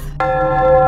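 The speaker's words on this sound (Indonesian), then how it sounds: "di rumah itu kan aku punya tipe bel yang bunyi gitu" A doorbell chime at home rings once, starting abruptly after a brief quiet moment and sustaining a clear, bright bell-like tone.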